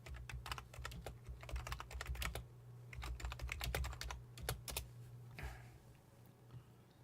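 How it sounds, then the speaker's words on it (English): Rapid clicking keystrokes on a computer keyboard come in bursts with short pauses, close and fairly quiet over a steady low hum. "I'm going to type that up."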